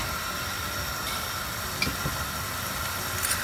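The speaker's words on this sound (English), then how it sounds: "You have to cook this until all these onions and tomatoes are cooked properly." Onions and tomatoes sizzle in a pan for a black-eyed bean masala curry, giving a steady, even hiss with faint stirring ticks and no talk.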